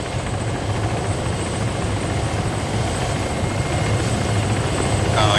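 A helicopter in a video game thrums with a steady, loud rotor beat that fills the short stretch without a break.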